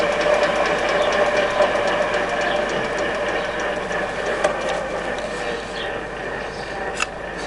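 A Stankoimport 6P82W universal milling machine running its gears at 40 RPM, a dense steady mechanical whir with rapid ratcheting gear texture and faint clicks, loud and close, with no talking over it.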